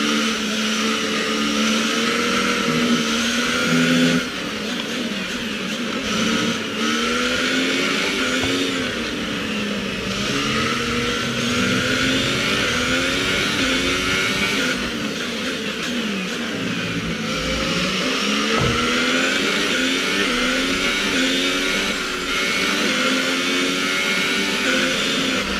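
Formula 1 car engine in a racing video game during free practice at the Brazil circuit, a continuous loud droning whine that holds steady without revving up, alone with no talk.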